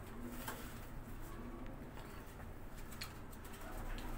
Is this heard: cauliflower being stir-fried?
no